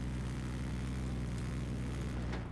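A helicopter in a video game, a low steady rotor and engine drone held at an even level throughout.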